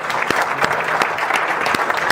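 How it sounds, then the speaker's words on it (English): An audience applauds world champions with a burst of dense, steady clapping from a crowd, loud and close, lasting the whole moment. "Let's give a huge round of applause for our world champions."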